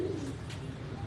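A pigeon coos briefly, a soft low call heard close and alone as the birds emerge from a rooftop breeding setup after rain.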